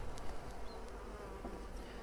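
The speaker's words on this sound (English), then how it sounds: "So if you find your bees are more agitated, have your gloves handy and put them on." Honeybees buzzing in an opened Flow Hive, a steady, dense hum from many insects close by, fairly quiet and continuous throughout.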